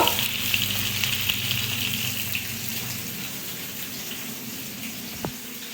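Spice pastes of turmeric, chili, ginger and garlic frying with salt in a pan give a steady, close hiss and watery sizzle that holds evenly throughout, with one brief knock near the end.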